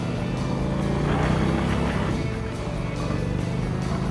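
A large, heavy Indian motorcycle ridden at a demo day, its engine droning steadily and loud from close by, mixed with wind rush and no clear gear changes.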